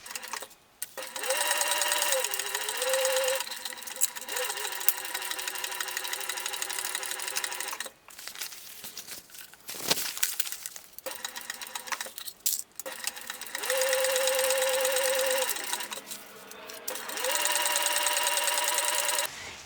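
A domestic sewing machine stitches a 3/8 inch seam on a backpack in loud, close, continuous runs, each several seconds long, separated by brief pauses.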